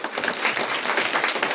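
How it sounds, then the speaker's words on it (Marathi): Audience clapping at a Ganesh festival kirtan in Maharashtra, a dense, steady burst of many hands applauding together throughout this short moment. "एकदा जोरदार टाळ्या वाजवाच"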